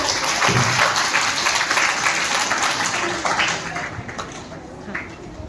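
Loud, dense applause from a crowd at a summer camp cultural program in Nagpur, many hands clapping together in a continuous wash that slowly thins out toward the end, with faint voices mixed in.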